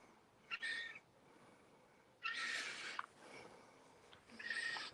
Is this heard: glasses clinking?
no